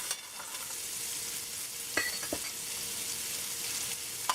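Onions, pimentoes, carrots and pumpkin stirred in hot oil for a Trinidad crab callaloo, a steady soft sizzle with a few sharp spoon scrapes against the pot near the middle and end.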